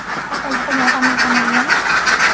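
Large flock of about 4,000 ducks on a duck farm, a dense chorus of quacking with one clear drawn-out call standing out near the front.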